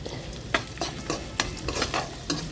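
Onions and turmeric frying in oil in a pan give a steady close sizzle, broken by short scraping stirs at an irregular pace, with no voices.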